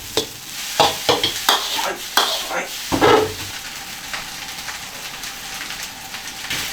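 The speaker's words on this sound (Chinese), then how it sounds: "然后给它炒均匀哈" Lamb fried rice seasoned with salt, cumin, Sichuan pepper and chili powder is stir-fried in a wok, with a run of quick, loud scraping and tossing strokes over a steady sizzle that settles into quieter frying.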